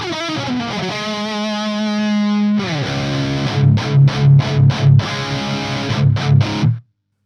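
An electric guitar played through a Hughes & Kettner TriAmp Mark 3 amp with heavy distortion, opening on a sustained ringing chord, then chugging palm-muted riffs with rhythmic stops before cutting to silence.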